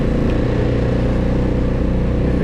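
A four-wheeler ATV pushes through deep lake-effect snow among hemlock trees, its engine a steady, loud, close drone with low rumbling throughout and no talk over it.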